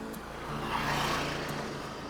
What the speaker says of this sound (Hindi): गाड़ी तो आ रही है भाई,